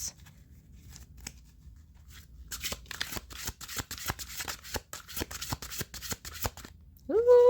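A large deck of giant oracle cards being shuffled, with a rapid run of crisp riffling flicks and slaps at close range, ending in a brief voiced exclamation.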